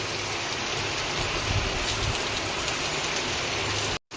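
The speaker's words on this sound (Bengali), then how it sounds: "অনেক অনেক জোরে বৃষ্টি আসছে" Heavy rain pours down outdoors near a waterlogged playing field, a steady, close, hissing roar with faint low rumbling beneath that cuts off abruptly just before the end, with no one speaking.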